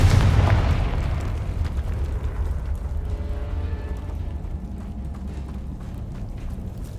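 A Confringo blasting spell in Hogwarts Legacy bursts in a heavy boom at the start, then rumbles and crackles as it fades over several seconds, with no other sound competing.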